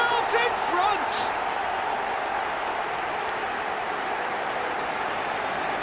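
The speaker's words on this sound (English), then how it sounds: "Even some of the opposing fans are clapping that." A stadium crowd in the eFootball 2025 football video game keeps up steady, dense applause for several seconds after a goal, with a few brief whistles or shouts near the start.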